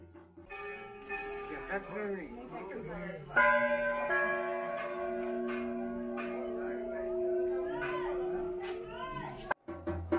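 Several temple bells ring out with long, shimmering overlapping tones, struck repeatedly and close by, with a few voices talking underneath, at a Golu Devta or Jageshwar temple in the Almora region, India.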